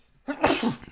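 One loud, close sneeze bursts out abruptly and tails off quickly.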